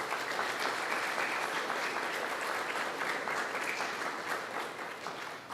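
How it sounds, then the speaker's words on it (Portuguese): An audience at a formal diploma-awarding session claps steadily, a broad wash of applause from a sizeable crowd that holds evenly and then eases slightly toward the end. "Eu peço que todos recebam eles com uma salva de palmas."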